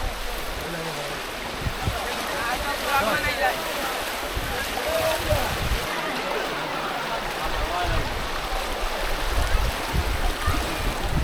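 Floodwater moving slowly past flooded houses, a steady broad wash of flowing water with light splashy texture, continuous and fairly close, with voices present in the background.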